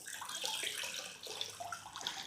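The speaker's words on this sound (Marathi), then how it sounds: "आता एका बाउलमध्ये पाणी घेतेय" Water runs and splashes briefly into a bowl, a soft continuous trickle at close range.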